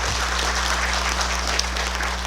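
An audience at a Buddhist Saturday temple service applauds in thanks to the head monk, producing a steady, dense wash of clapping over a low electrical hum.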